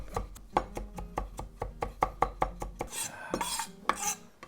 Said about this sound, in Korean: 생강은 아주 곱게 다져주세요.